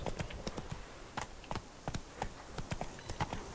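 Horse hooves gallop in The Witcher video game, a rapid steady clip-clop of hoofbeats repeating throughout, fairly quiet and without talk.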